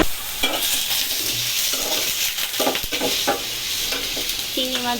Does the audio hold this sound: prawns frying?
yes